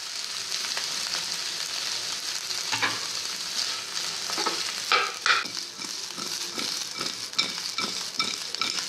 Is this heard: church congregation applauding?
no